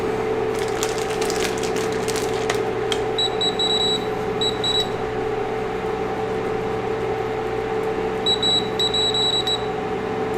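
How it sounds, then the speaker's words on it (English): An electric hot plate emits bursts of rapid, high-pitched beeps, one cluster early and another near the end, over a constant appliance hum and some faint clicking, with no talking. "please let me know what it means when it beeps in random succession over and over again"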